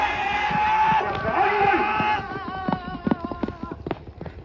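Hooves of racehorses clip-clop at a village horse race in Barwali Khurd, Punjab, as a run of sharp, rhythmic hoof strikes grows clearer in the second half after a stretch of voices and tonal noise.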